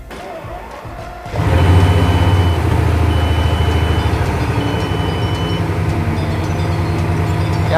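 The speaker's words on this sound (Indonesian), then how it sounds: "Sekarang kita coba starter." A supercar in a Jakarta showroom fires up after a quiet moment. The engine catches with a sudden loud burst, then settles into a deep, rumbling idle that carries on steadily, with a faint electronic tone pulsing above it.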